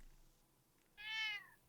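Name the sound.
cat meowing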